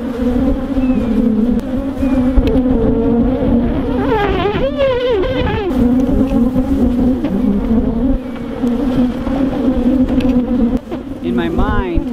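Angry honey bees swarm and buzz loudly around an opened hive, a dense, continuous drone close by with pitch wavering as individual insects dart past.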